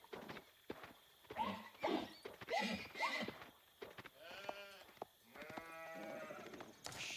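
Sheep in a real-time strategy video game match bleat several times in quick succession, wavering calls mixed with light hoof clip-clop and other game effects, fairly faint and without talk.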